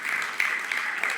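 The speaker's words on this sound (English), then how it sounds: "Let's cheer for that." Church congregation applauding a baptism, a steady patter of clapping filling the room at moderate volume.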